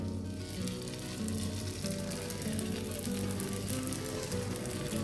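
Thin mango holige flatbread cooking on a hot iron griddle: a steady, even sizzle and soft crackle that runs without a break, with a low tonal hum underneath.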